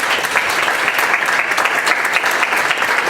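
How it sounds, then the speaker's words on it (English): An audience at a League of Women Voters issues forum in Salina applauds the panelists, loud dense clapping from many hands that continues steadily throughout. "please give a big round of applause for all our panelists."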